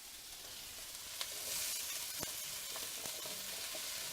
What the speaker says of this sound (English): we can go ahead and throw our zucchini and our pepper right into that pan, along with the garlic.